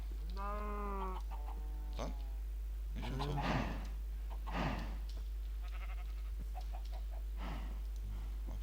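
A chicken in Minecraft clucks in short, choppy bursts, with a few sharp squawks spread across the clip, over a steady low hum.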